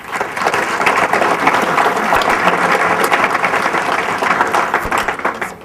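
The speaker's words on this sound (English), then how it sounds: "I wanted everybody to give a round of applause to all the awesome people here who put on DevOps Days Chicago" Audience at the DevOpsDays Chicago 2014 tech conference gives a sustained round of applause, dense steady clapping filling the room throughout.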